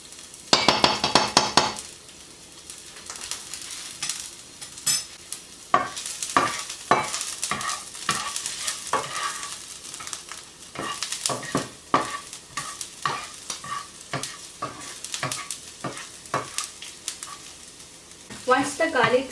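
Chopped garlic frying in oil in a home kitchen pan, a soft steady sizzle broken by frequent clinks and scrapes of a utensil stirring against the pan.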